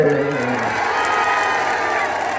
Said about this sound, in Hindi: ये बच्चियां यहां बैठकर ताली बजा रही हैं।